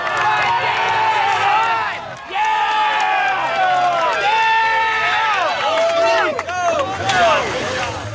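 Large roadside crowd at the 1986 Coors International Bicycle Classic hill climb, a loud continuous mass of overlapping voices and shouts with cheering swells, close and steady throughout.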